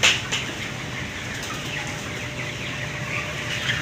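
A dense, steady chorus of many 27-day-old chickens clucking and murmuring together in a crowded poultry farm shed, with no talking.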